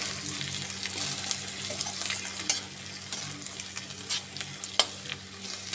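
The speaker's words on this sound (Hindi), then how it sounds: "धनिया को हम अच्छी तरह से मिक्स कर लेते हैं।" Chopped coriander being stirred into sizzling chana chilli in a pan, a continuous hiss of frying with soft scraping and occasional sharper clicks of the spoon, close and moderately loud.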